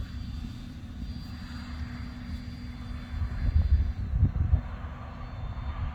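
A red, white and blue FT Freedom Fox V2 radio-controlled airplane flies overhead, its motor a steady buzzing whine that swells louder for a couple of seconds as it passes nearer, then eases back.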